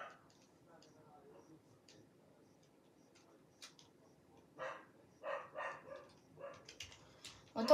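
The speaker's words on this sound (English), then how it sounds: "Sorry guys if you hear some barking in the background, it's my dumb dogs." Dogs bark indoors in the background: scattered, faint yips and barks that come in short bursts, growing more frequent toward the end over an otherwise quiet room.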